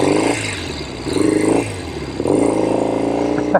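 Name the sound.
1970 Royal Enfield Interceptor 750 Mk II motorcycle engine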